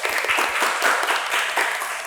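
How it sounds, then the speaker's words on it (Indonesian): An audience applauding, a brief burst of many hands clapping in a steady, dense patter at close range. "Kita kasih aplaus."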